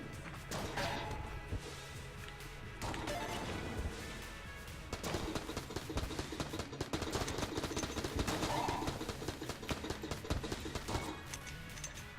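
Rapid gunfire from a bullet gun in the video game Enter the Gungeon: dense, crackling volleys of shots and impacts running nearly continuously, loud and busy, with little talk.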